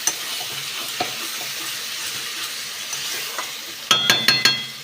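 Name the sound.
stirring boiled rice and dal together in a pan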